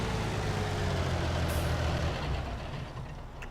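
A heavy Fendt tractor engine in Farming Simulator 19 drones steadily with a deep, rumbling low end, holding a constant level before easing off slightly near the end.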